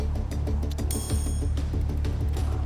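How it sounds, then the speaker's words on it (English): A telephone ringing in a dramatized D-Day scene at a German coastal gun position in France, a steady electric bell trilling continuously under a low rumbling background throughout. "The phone rings."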